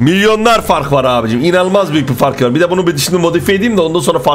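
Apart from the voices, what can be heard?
None of the usual background noises is heard.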